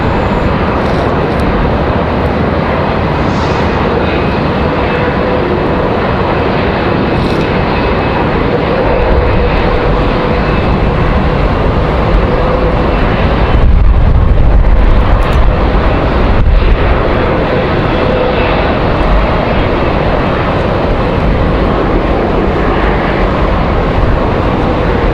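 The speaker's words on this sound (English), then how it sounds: "Touchdown for the CRJ." A CRJ regional jet touches down at Raleigh-Durham on a windy day. Its loud, steady engine roar fills the whole span, with a brief swell and gusty rumble near the middle and no voices.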